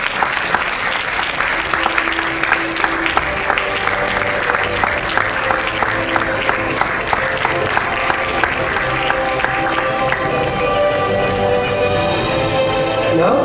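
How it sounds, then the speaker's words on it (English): A large audience applauds at a university faculty of medicine awards ceremony, a steady, loud wash of clapping with some rhythmic clapping audible within it, and music playing underneath throughout. "Ladies and gentlemen, please give a big round of applause."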